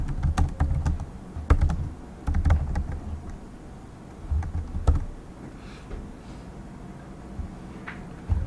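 Keystrokes on a computer keyboard while HTML form code is entered, coming in quick clusters and single taps over a low background hum, close and moderately loud, with no voice.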